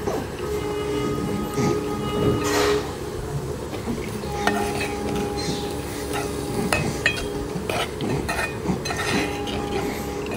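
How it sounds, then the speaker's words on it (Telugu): Soaked raw chana dal is stirred in a pan, a steady scraping and clinking with faint sizzle, continuous and fairly close with no talk. "సో అలా నానబెట్టిన పచ్చి శనగపప్పుని ఇప్పుడు బాండీలో యాడ్ చేసి ఒకసారి కలుపుకోండి."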